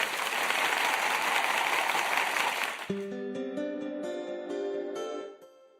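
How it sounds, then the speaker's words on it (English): Brief applause from a group fills the first half, thick and steady, then cuts off abruptly as a bright, melodic musical sting takes over and fades out. "let's leave it with a nice little applause"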